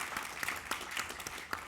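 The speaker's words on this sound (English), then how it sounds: "I think a round of applause, please, for our fantastic panelists." A short burst of steady clapping from a conference audience for a panel, moderately loud, with scattered sharper claps standing out.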